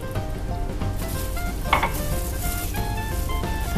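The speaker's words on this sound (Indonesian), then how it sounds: "Aduk-aduk sampai adonan bisa dibentuk." Chicken siomay dough of tapioca flour and water being stirred in a bowl, a steady dense scraping and churning with a few brighter clinks of utensil against the bowl, continuous and close, with no talking.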